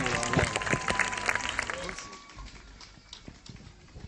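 Applause and clapping from an audience at a community Christmas gathering, a dense patter of hands over voices that fades after a couple of seconds into scattered claps and room noise.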